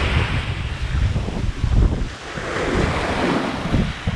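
Surf rolls continuously onto a large sandy beach by the ocean with Beachy Head in the distance, a steady broadband wash with heavy wind buffeting the microphone.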